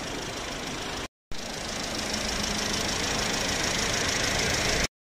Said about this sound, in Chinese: 听一下这个声音怎么样？ 我对这个小车发动机也不是很熟。